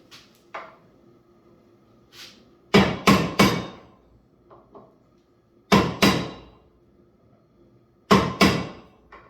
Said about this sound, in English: So I'll take my hammer and just flatten these out a little bit.